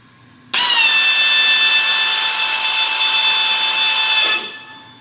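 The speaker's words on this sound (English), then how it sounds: "watch what happens as soon as I start the drill." An electric drill runs steadily for about four seconds to drive an oil pump priming a car engine's oil system through an already-filled oil filter, a loud high whine with harmonic tones starting abruptly and then winding down.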